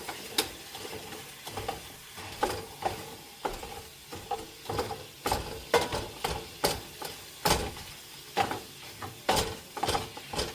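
Hamburger meat fries in a pan, a low sizzle under repeated scraping and stirring clatters that come in an uneven rhythm, close-up and moderately quiet throughout.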